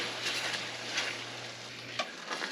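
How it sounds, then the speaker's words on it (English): Keto butter chicken curry made with bone broth soup simmers in a pan, giving a steady soft sizzle and bubbling with a low hum and occasional light clinks of stirring. "Let that simmer for just a minute or two."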